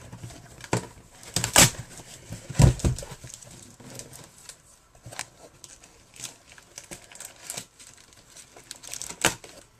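A parcel package is torn open by hand: irregular bursts of crinkling plastic and ripping tape, with sharper tears near the start and scattered rustles after. The sound is close and heard alone.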